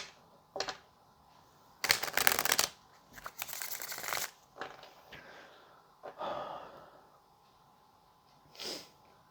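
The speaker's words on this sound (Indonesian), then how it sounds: "Sebentar ya, shuffle dulu." Tarot cards are shuffled close by in a quiet room, giving irregular papery riffles and soft slaps in several bursts of different lengths with pauses between.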